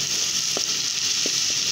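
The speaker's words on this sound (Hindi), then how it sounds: "इस तरह हम इसे मुसलसल चम्मच हिलाते हुए फ्राई करेंगे।" Chicken korma frying in a pan while being stirred with a spoon, giving a steady close sizzle with a few faint scraping taps on top, and no voices.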